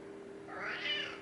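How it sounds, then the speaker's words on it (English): A house cat gives a single drawn-out meow that rises and swells in the middle, fairly close and heard alone over a quiet room hum. "You just keep meowing."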